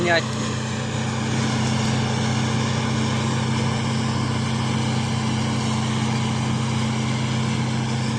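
A combine harvester engine drones steadily and loudly from inside the cab while harvesting soybeans, a constant low mechanical hum with steady machinery rumble throughout.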